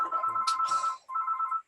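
A telephone rings indoors during a martial arts class: a bright electronic ringtone in two bursts with a short gap between them, fairly quiet and heard alone without talk.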